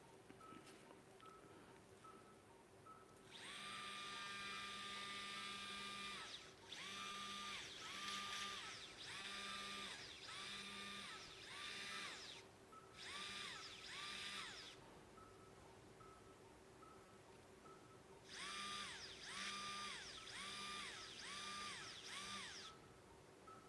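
A surgical drill during a spinal endoscopy procedure whirs in repeated high, steady bursts, some long and some clipped short, with a constant electronic tone beneath and no talking.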